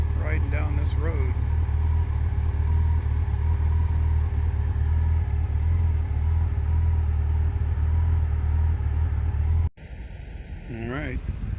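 A vehicle travels a road through primeval Midwest forest in Michigan, its engine and road noise forming a steady, close drone that runs continuously before cutting off abruptly near the end.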